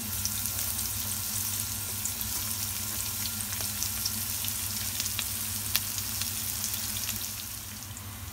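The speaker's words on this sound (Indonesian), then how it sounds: "Jadi setelah minyak panas, Masukkan dulu bawang bombay" Onions frying in hot oil in a pan, a steady, moderately quiet sizzle with faint crackles, continuous throughout and fading slightly at the end.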